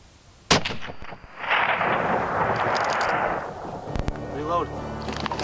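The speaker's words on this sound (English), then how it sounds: "Slowly squeezed the trigger, and I think I got him pretty good because I saw the shot hit." A single sharp, loud rifle shot fired at an elk during a Nevada hunt, cracking outdoors and rolling into a long echoing rumble, with people talking quietly afterward.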